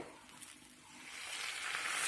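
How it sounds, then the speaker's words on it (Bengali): Raw cumin seeds toast in a pan over low heat, a faint steady sizzle that grows slightly louder, with no talking. "এখন কাঁচা জিরে আছে যার জন্য একটু ভেজে নিতে হবে"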